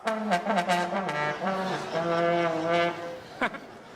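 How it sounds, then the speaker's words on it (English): A single sackbut blows a few buzzy, sustained low notes, some short and some held, loud and close, with a brief breathy accent near the end. "You just blew down a sackbut"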